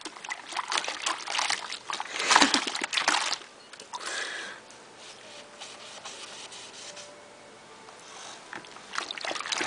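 Water splashes and rubs during washing, with bursts of sloshing and scrubbing that swell and fade, loud at first, then a quieter trickling stretch before picking up again at the end.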